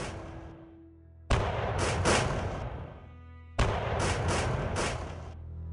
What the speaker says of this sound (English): Bagration's experienced soldiers repeatedly turned to fire disciplined volleys